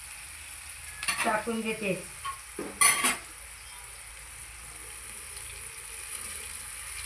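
Leftover cooked rice frying in a pan as it is stirred, giving a steady close sizzle, with brief scraping and stirring clatter near the start and a short spoken line.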